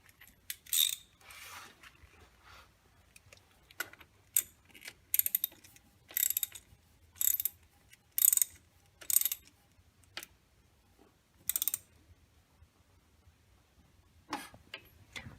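A nut is tightened on the electric starter mount of a 1935-39 Indian motorcycle, giving faint scattered ratcheting clicks and short metallic bursts in a quiet room, unevenly spaced with gaps between them.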